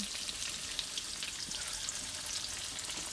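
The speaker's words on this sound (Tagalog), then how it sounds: "Nagpiprito po si ate ngayon ng tokwa." Steady, crackling sizzle of tofu frying in hot oil, continuous and close, with no talking, in a countryside home in the Philippines.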